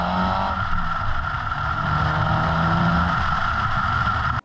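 A Mitsubishi Evo 5 with factory anti-lag system runs loud and close, a sustained droning engine roar holding a steady pitch for several seconds before cutting off abruptly.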